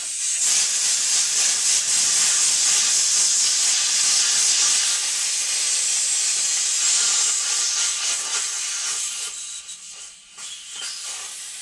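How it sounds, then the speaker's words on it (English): Compressed air blasts loudly and steadily from an air compressor's opened drain valve, a harsh sustained hiss that carries for about nine seconds before sputtering and tapering off. "Come on, air compressor, drain."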